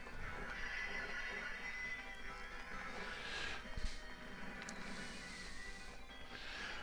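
Horse neighing in a retro video game on a Super Retrocade console, a whinny effect heard over continuous busy game sounds and music, fairly quiet and not close.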